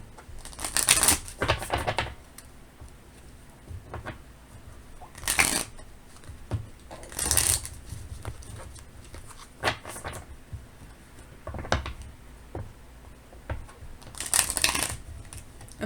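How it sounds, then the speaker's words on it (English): Oracle cards shuffled and drawn by hand, with several bursts of riffling and fluttering card noise separated by quieter handling, close and moderately loud, with no talking. "I will pull a few oracle cards here."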